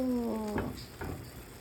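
Ketchup and sweet sauce being mixed in a hot pan as they cook, a low sizzle with a couple of soft stirring scrapes, heard close and fairly quiet.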